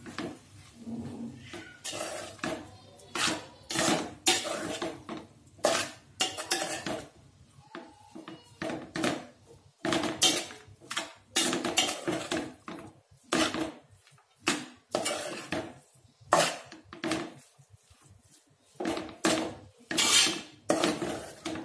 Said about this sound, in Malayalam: ഇനി ഇതൊന്ന് മിക്സ് ചെയ്ത് കൊടുക്കാം. ബാക്കി ചോറോടെ ഇട്ട് കൊടുക്കാം.